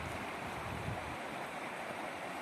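The Ingulets river churns and bubbles, a steady broadband rush of moving water heard continuously at close range with some wind noise.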